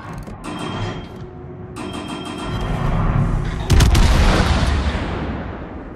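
Naval artillery fire from warships in World of Warships, heard as dense rumbling battle noise with mechanical clatter and a heavy burst of gunfire near the middle, loud and continuous.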